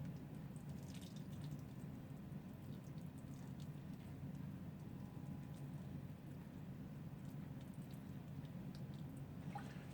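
Water pours steadily from a homemade watering can onto trays of microgreens indoors, a continuous soft splashing and trickling that runs unbroken throughout.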